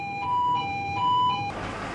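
A two-tone fire alarm siren on a ship wails back and forth, loud and close, for a couple of cycles before cutting off into a burst of noise.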